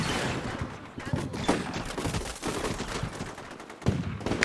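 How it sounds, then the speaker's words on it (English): Machine gun fire from an LAV raking a building where a sniper hides, in the Combat Mission Shock Force 2 war game; dense, steady rattling bursts with sharper reports near the end, mid-distance and continuous. "One of the lavs spots the sniper and begins to put machine gun rounds in the building"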